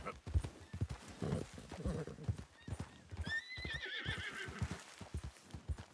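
A horse in the Red Dead Redemption 2 video game clops along steadily, hooves thudding close, then lets out a loud rising whinny near the end while someone talks over it.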